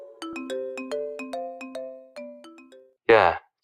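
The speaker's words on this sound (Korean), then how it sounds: "토요일 주말 저녁 집에서 쉬고 있는데 진수 형 전화가 오더라고요." A phone ringtone announcing an incoming call plays a bright, tinkling chime melody of rapid repeated notes. A short burst of voice follows at the end.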